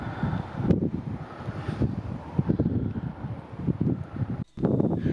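Strong, blustery wind sweeps a Cornish coastline in summer, a close, rumbling buffeting against the microphone that rises and falls in gusts and briefly drops out before returning.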